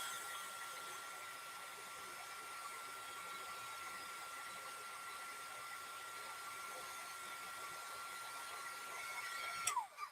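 A heat tool blows steadily and fairly loudly to puff embossing powder during a stamping craft session, a continuous airy whoosh that runs throughout and cuts off abruptly at the end.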